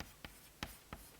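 Someone writes on a board during a lecture on turbulent kinetic energy equations, making four short, crisp strokes at uneven intervals, close and alone.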